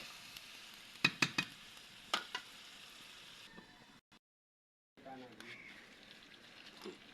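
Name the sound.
mutton curry sautéing and sizzling in a pan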